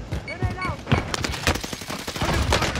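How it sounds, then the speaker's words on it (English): Video game gunfire, quick bursts of shots in a busy firefight, heard at a middle distance under excited talk from the players. "Oh, someone's shooting at us?"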